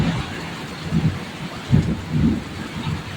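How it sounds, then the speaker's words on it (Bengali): Heavy downpour during a nor'wester thunderstorm in Bengal, a steady close hiss of rain with several low rolling thunder rumbles swelling and fading over a few seconds. "এত বৃষ্টি হচ্ছে, এত মুষলধারে, এত মেঘ চমকাচ্ছে।"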